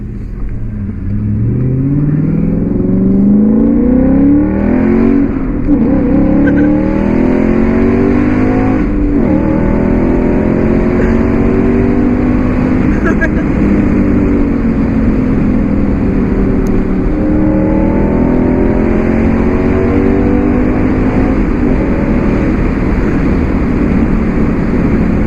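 Audi S5 fitted with an Armytrix exhaust, driven hard with loud, sustained engine roar rising and falling through several revving pulls, close and continuous.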